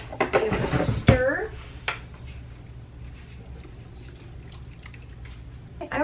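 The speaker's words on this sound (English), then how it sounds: "let's give this a stir" Soup being stirred in a pot, with a short burst of metal utensil scraping and clinking against the pot up close, then quieter liquid and kitchen sounds.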